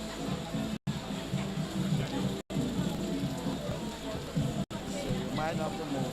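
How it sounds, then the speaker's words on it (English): Heavy rain pours down steadily during an outdoor traditional mas carnival celebration at Spice Mas, a dense, hissing wash of drops with brief audio dropouts and faint crowd noise beneath. "So it's a lot of rain."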